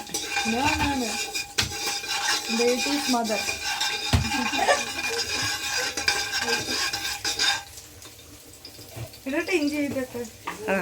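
Whole spices, including cinnamon, stirred around a cooking pot for chicken biryani, with a spoon scraping and clinking against the metal and light frying underneath, while a voice talks over most of it.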